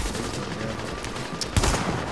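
Gunfire crackles in the video game The Division, a fast run of shots under a steady noisy bed, with one louder burst near the end.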